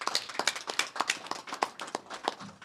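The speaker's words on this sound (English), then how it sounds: "Let's give them a round of applause" Sparse clapping from a small audience at a January city council meeting, with distinct individual claps in an uneven rhythm for about two and a half seconds, fairly faint and heard alone.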